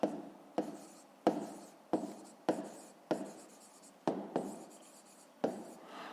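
A pen scratches across paper in short strokes, with each stroke starting sharply and trailing off, forming about ten close, quiet bursts with no talking.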